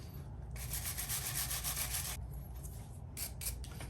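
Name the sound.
brushing an RC car differential part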